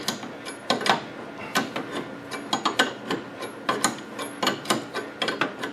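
A bolt on the trailing arm of an old Toyota Camry is tightened, giving a rapid run of close, sharp ratchet clicks in uneven bursts with brief pauses, and no voices.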